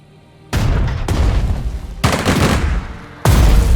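A recon unit attacks enemy infantry in the Strategic Mind: Spirit of Liberty strategy game, with four close, loud bursts of booming gunfire and sustained automatic shooting following one another almost without pause.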